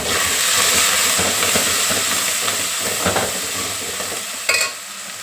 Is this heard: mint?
yes